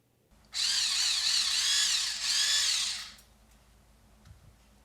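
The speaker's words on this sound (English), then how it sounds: "now I'm going to grind some of the sesame seeds on here" A small electric grinder whirs for about two and a half seconds, crushing sesame seeds over a Japanese cabbage salad, a steady high buzzing drone that stops abruptly, leaving near silence.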